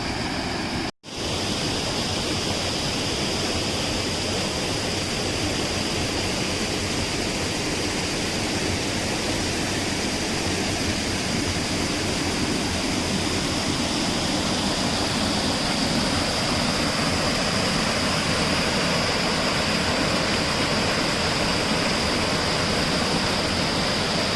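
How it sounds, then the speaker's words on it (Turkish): Gökdere waterfall in Konyaaltı, Antalya roars as a steady, loud, dense rush of falling water that never lets up, heard up close after a brief dropout at the start. "Evet, ilk şelalenin çekimini yaptım."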